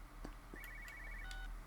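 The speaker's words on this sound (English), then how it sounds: "Oh, phone's ringing" A phone ringing in the video game Everybody's Gone to the Rapture, a faint, short electronic trill with a few brief tonal pulses over quiet ambience.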